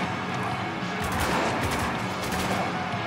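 Assault rifle fire in the Spec Ops: The Line video game, rapid bursts of gunshots cracking loudly and close, with dense overlapping reports across the span.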